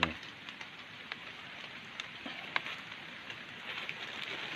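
Rain falls steadily on a surface nearby outdoors while mushrooms are being gathered, a soft continuous hiss dotted with scattered louder drips and taps.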